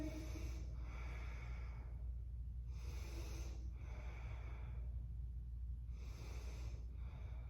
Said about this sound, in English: 3 big breaths here